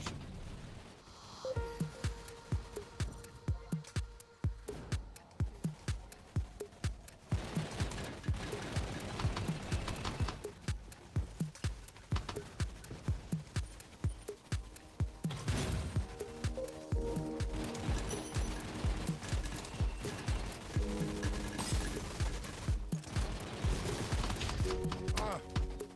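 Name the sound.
gunfire in a video game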